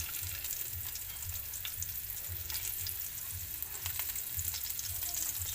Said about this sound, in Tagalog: Igisa na lang natin. Ayan, yung sibuyas. Igisa-gisa lang